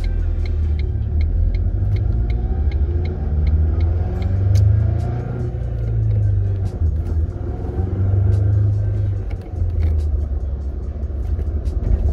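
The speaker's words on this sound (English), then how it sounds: "let's give it a little bit of gas" Ford Focus engine revving under applied throttle, a loud continuous low rumble that swells and eases in several waves, close by with no talk over it.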